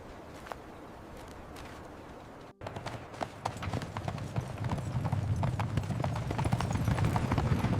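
Donkey hooves clip-clop on a hard road, a quick irregular clatter that grows busier and louder, with a steady rumble of background noise underneath.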